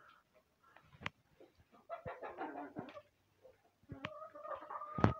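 Hens in a backyard poultry flock cluck and cackle in scattered bursts, with a few sharp louder calls standing out and fainter bird sounds between them, and no talking.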